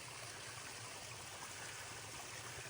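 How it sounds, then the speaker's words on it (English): Small waterfall on a trail stream, a steady, close rush of splashing water with a bright hiss and low churning, continuous and alone with no voices. "Got us a little waterfall"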